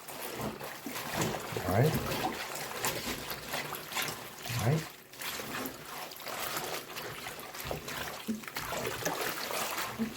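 Water runs and trickles steadily in a sink as fresh collard greens are washed by hand, with occasional splashes, and someone speaks briefly over it.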